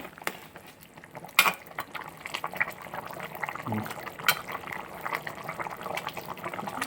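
A Kerala-style chicken stew with potatoes and carrots bubbling in a pot, a soft steady simmer of liquid with a few louder pops.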